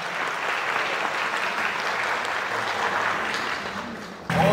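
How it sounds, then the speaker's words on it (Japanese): Applause at a bikini fitness championship, sustained clapping from a large audience that holds steady for several seconds before a louder sound cuts in at the end. "大きな拍手でこれから大会が始まります"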